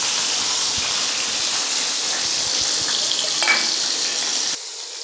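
Eggs frying lightly in a pan for a Mughlai-style egg rezala give off a steady, close hiss of sizzling oil that runs unbroken for several seconds and cuts off sharply near the end.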